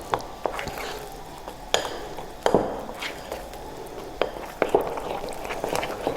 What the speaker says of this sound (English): I am mixing this both dry and wet ingredients together